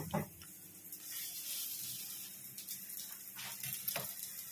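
A burger bun heating in a hot pan at home, with a faint steady sizzle and a few soft scraping, shifting sounds as it is moved around, quiet and close.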